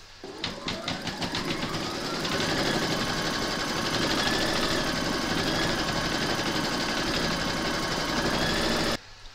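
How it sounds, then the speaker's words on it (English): Embroidery machine stitching a large flamingo applique outline through batting, a rapid rhythmic mechanical chatter that starts with a few distinct thumps, then runs steady and close before stopping abruptly near the end. "Pop your hoop into your machine and stitch round number 2."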